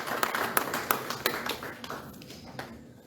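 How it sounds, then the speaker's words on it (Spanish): A church congregation claps for the Lord in a burst of sharp, uneven hand claps that thin out into scattered taps and fade, with a faint murmur of voices beneath. "Denle un aplauso grande al Señor."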